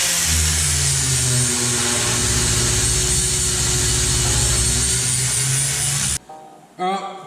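A power tool cuts steel RHS pieces at roughly 45-degree angles for axle supports on a wheel trolley. It makes a loud, steady, close grinding whine that runs continuously for about six seconds, stops abruptly, and is followed by a brief faint rattle.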